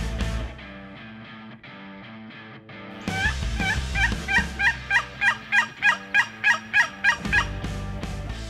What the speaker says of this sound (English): They got a turkey gobbling back.